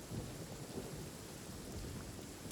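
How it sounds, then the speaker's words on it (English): Thunder and rain in the video game Genshin Impact: a steady wash of rainfall with a low rolling rumble underneath, fairly faint and continuous, with no voices. "I don't know if it's supposed to be raining, but it's hella cool."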